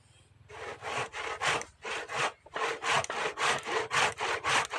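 A hand saw cuts through wood with about a dozen rasping strokes at a steady push-pull rhythm, close and fairly loud, with no talking.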